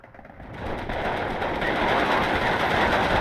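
Machine gun fire in the video game Steel Division 2 builds into a dense, continuous rattling roar of rapid shots, loud and sustained without pause, with no talk.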